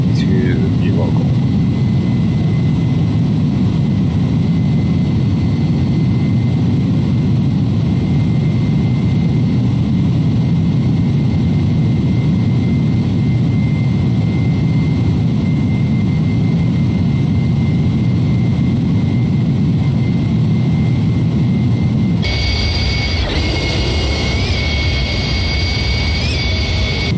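An iniBuilds A300-600 jet climbs out in X-Plane 11, a steady loud engine roar with broadband rumble filling the cabin throughout, then a sharp shift near the end to a thinner, higher whine as the low rumble drops away.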